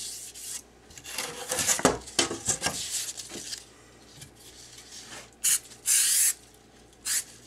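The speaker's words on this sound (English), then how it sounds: "Just kind of get some spray glue on it." Short hissing bursts of an aerosol spray-glue can, a few quick light mists in a row after some rubbing and handling noises, in a woodworking shop.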